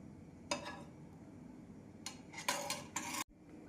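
A spoon presses rasamalai and moves it to a serving bowl, giving a few soft metal-on-dish scrapes and clinks in separate bursts, close and quiet, with no talking.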